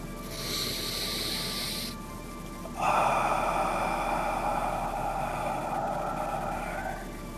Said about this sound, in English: Nice deep breath in through the nose.